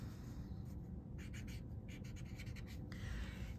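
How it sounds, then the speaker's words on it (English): A watercolor water brush pen writes across paper in a quiet run of soft strokes, each a brief scratchy swish, with low background rumble and no talk. "You can literally write with watercolor."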